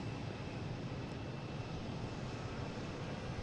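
An Airbus A330-300 jet airliner arrives at Boston Logan airport, its engine roar faint and distant, a steady broad rumble lasting a few seconds with no voices.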